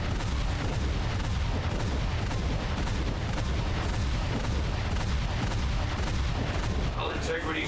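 Turrets fire in the video game Jak and Daxter: The Lost Frontier, a loud, continuous barrage of booming shots and blasts with no letup.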